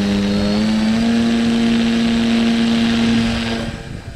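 Electric motor of a radio-controlled P-51B Mustang model plane runs steadily at a high whine, holding a constant pitch close to the microphone before spinning down at the end, with wind noise underneath.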